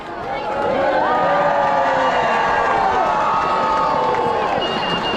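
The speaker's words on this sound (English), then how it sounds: "can we have a big cheer for the Christmas Lights Committee, who do this every year for us?" At a Christmas light switch-on, a large crowd bursts into a loud, sustained cheer with whoops and shouts that rise quickly and hold for several seconds.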